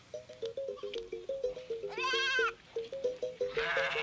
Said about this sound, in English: Everywhere there are goats, sheep, and chickens.